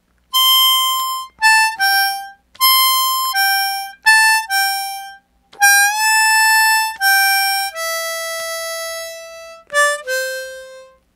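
Harmonica playing the third solo line of a song, ending on draw four and blow four: a steady run of sustained reedy notes with short gaps and a few pitch bends, loud and close, no talking.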